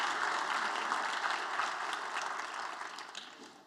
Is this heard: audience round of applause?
yes